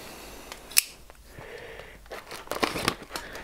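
A Zero Tolerance 0393 knife slices open a plastic MRE pouch of Long Range Patrol scrambled eggs with cheese, making a sharp tick, then crinkling and tearing of the packaging at close range with no speech.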